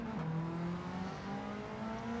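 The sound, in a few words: Lancer Evo 3 engine revving under braking, Gran Turismo 7 game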